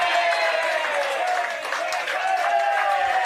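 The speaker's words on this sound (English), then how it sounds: "You can hear the Bronx cheers from the crowd here" Bronx cheers rise from a football crowd at a Wanderers versus Waratah Northern Territory men's premier league match, a steady roar of jeering and applause that fills the whole stretch and dips briefly midway.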